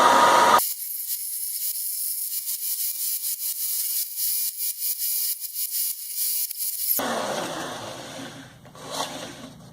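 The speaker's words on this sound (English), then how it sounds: "Just trying to grind it out without getting in too close to here." A rotary grinder working the border of a cast metal belt buckle made by lost foam casting, giving a loud, steady high-pitched whine with slight fluctuations that cuts off abruptly, leaving quieter workshop noise.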